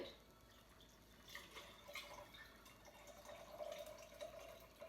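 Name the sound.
liquid being poured in while cooking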